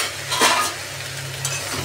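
A radish vegetable curry is stirred in a pot, giving a brief scraping swirl near the start over a steady low simmering sizzle, close and moderately loud with no voices.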